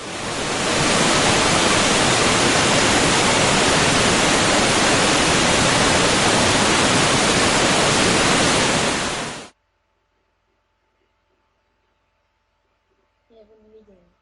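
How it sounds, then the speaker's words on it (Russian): A waterfall roars as a dense, steady wash of rushing water for about nine seconds, then cuts off abruptly, leaving near silence with a faint brief sound at the very end. "Обалденно вообще. Водопад!"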